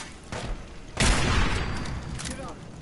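Gunshots in the game Fallout 4: a couple of sharp reports, the second a loud burst that rings out and decays, with a speaking voice present.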